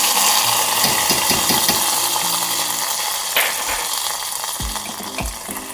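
Hot tempering poured into a pot of mor kuzhambu, a South Indian buttermilk curry, bursting into a loud, close sizzle that fades gradually, with a few soft clinks and thuds of utensils.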